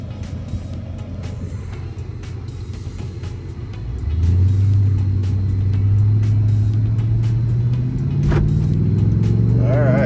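A 2500 pickup truck with an empty bed drives along a road, its engine a steady loud rumble that rises in pitch as it accelerates partway through, with continuous road and cabin noise throughout.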